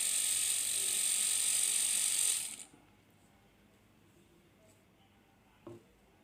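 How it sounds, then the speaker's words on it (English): A small 12V DC motor spins on test with a high, steady whine for about two seconds, then stops abruptly, leaving near silence broken by one brief click. "Then I test the motor."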